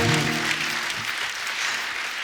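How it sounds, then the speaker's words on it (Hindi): A studio audience at a comedy talk show breaks into loud, dense applause that carries steadily to the end, with a brief voice at the very start. "कंगना जी के लिए जोरदार ताली हो जाए"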